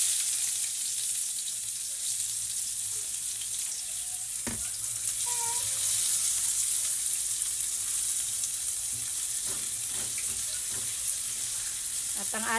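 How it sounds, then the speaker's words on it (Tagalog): Garlic and onion sautéing together in a pan for a Spanish sardines dish, a loud, even, continuous sizzle with a few small knocks and scrapes, close and uninterrupted, no voices. "Gisa na natin ang ating bawang at sibuyas ng sabay."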